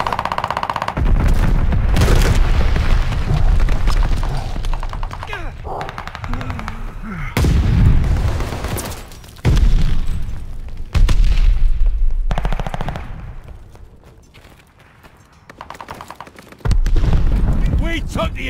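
Heavy gunfire and explosions in a Call of Duty: Vanguard Hardpoint match, with loud bursts and booms repeating and cutting in and out under in-game announcer voice lines.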